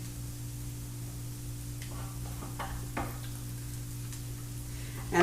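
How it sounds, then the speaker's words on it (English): Savoury French toast fries on a griddle with a steady, soft sizzle and scattered faint pops and crackles, heard alone at close range with no voices. "So now we're getting a little bit more popping, but it's still just sizzling."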